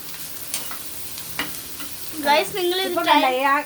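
Bitter gourd fries in oil with a soft, steady sizzle and a stirring scrape, and a voice begins talking over it partway through.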